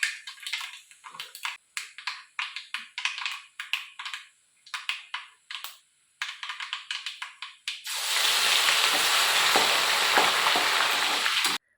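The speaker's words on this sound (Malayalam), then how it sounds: "കടുക് പൊട്ടിച്ചു ആദ്യം നല്ലെണ്ണയിൽ" Mustard seeds crackle and pop in hot sesame oil in quick irregular bursts, then a loud steady sizzle takes over as more food hits the pan.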